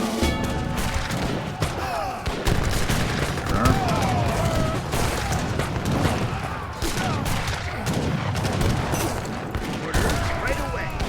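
Continuous gunfire from reload-free troops in a strategy game rattles on as a dense, steady fusillade with booms and crashes, while voices talk over it throughout.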